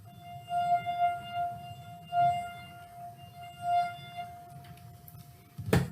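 A glass holding water resonates with a steady, pure tone near 700 Hz, ringing continuously for the whole stretch with slight swells, over a low background rumble and a brief knock at the end.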